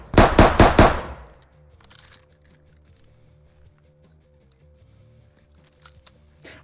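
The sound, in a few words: NIArms machine gun firing indoors in a video game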